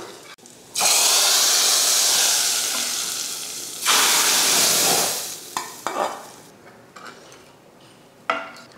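Hot oil tempering with curry leaves and asafoetida poured into lentil curry, bursting into a loud sizzle that fades, surges again, then trails off into quieter bubbling and clinks of a spoon against the pot.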